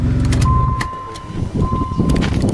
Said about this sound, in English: This is what it sounds like right now. That's a leaky muffler.